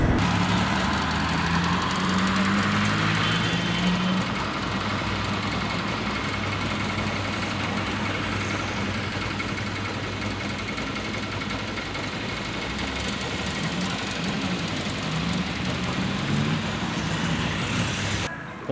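Motorcycle engines idle continuously in a queue at a gas station during a truckers' strike, giving a loud, steady engine rumble with traffic noise and no clear talk.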